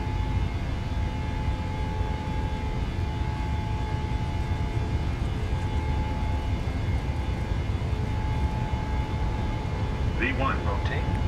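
Airliner engines at takeoff power in Microsoft Flight Simulator, a steady broadband roar with a low droning hum that holds constant throughout, loud and close, with brief chirpy tones near the end.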